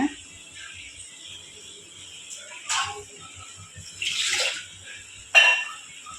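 Cooked dal rinse water is poured into a simmering vegetable kuzhambu, making a few short splashing pours over a quiet, faintly bubbling background.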